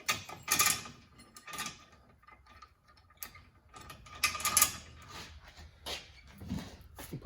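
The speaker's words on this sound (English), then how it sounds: "Okay, I'm going to put my chain back on here." A metal chain rattles and clinks in irregular bursts as it is put back onto a car's front suspension during a CV axle replacement, close and fairly loud with quiet gaps between.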